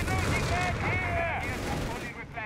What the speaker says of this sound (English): Oh, MG34.